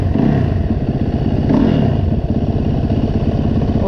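A Yamaha dirt bike engine idles low in the snow, a steady close-up motorcycle putter with slight clattering and no voices.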